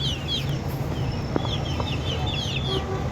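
Chickens cluck and chirp in short calls over a loud, constant outdoor background rumble, with occasional higher squawks.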